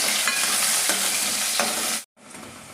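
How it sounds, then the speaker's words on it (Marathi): Finely chopped onion frying in a hot pan makes a loud, dense, close sizzle with stirring scrapes. It cuts out abruptly for a moment, then resumes more softly. "कांदा छान गुलाबी रंगावर भाजून घ्यायचा"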